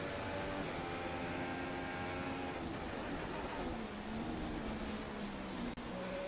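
F1 car engine from the F1 2016 video game, pitch stepping through downshifts under braking; a loud continuous whine with harmonics that drop and shift, one brief cut near the end, no talking.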